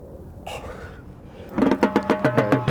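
A chicken lets out a short squawk, then after a pause gives a rapid run of loud, close clucks in an even rhythm.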